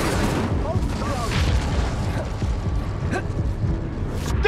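Incendio fire spell cast in Hogwarts Legacy, a loud, continuous roaring whoosh of flame with deep rumbling booms and creaking mechanical textures, with a voice calling out over the din.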